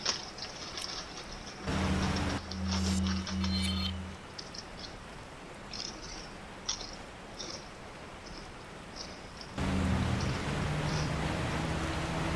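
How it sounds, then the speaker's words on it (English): Steady hiss of rain falls in Resident Evil 4 with the Rising Of Evil mod, a continuous wash under game sounds, with low engine-like hums cutting in and out and a few faint clicks, no talking. "I don't mind the rain either."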